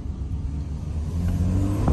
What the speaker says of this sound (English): you definitely can hear more engine noise